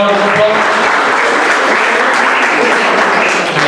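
A seminar audience claps for themselves in loud, dense, sustained applause that fills the room evenly from start to finish.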